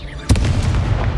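A Confringo fire spell cast in the Hogwarts Legacy video game: one sharp, booming burst like a blast, followed by a rumbling low tail.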